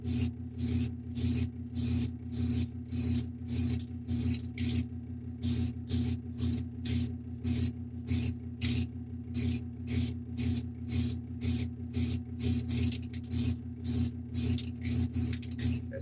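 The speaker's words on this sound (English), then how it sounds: "I spray most of the stuff at my desk." A spray can coats model kit parts with gloss black paint at a desk. Close, loud hissing bursts come in a quick, fairly regular rhythm of short presses over a steady low hum, with no speech.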